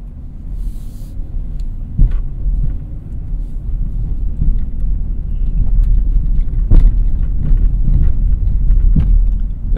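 A 2024 Ram Rebel V8 pickup in its highest off-road setting rolls over a crater-filled road, a steady low cabin rumble broken by repeated dull thuds and knocks as the tires drop into holes, with no one speaking.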